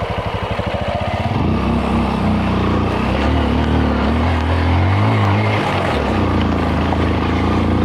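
An enduro motorcycle rides past a campsite view deck, its engine throbbing with a pulsing idle before rising into a loud, steady, close drone that holds throughout.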